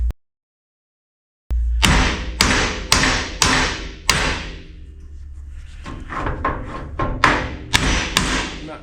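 Sharp hammer blows drive a small U-joint out of a yoke clamped in a vise on a 1966 Mustang with a six-cylinder, several loud metallic strikes in an irregular series with ringing tails, no talk.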